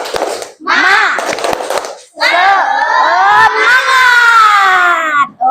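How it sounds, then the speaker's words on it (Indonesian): Primary school class of fourth graders shouting the tepuk semangat clapping chant together, loud bursts of children's voices punctuated by a quick run of sharp claps, then a long sustained group shout. "lebih baik kita tepuk semangat"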